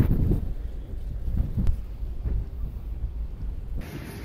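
Strong wind on the deck of a passenger ship buffets the microphone in heavy low rumbles and gusts, loudest at the start, then settling into a steadier roar.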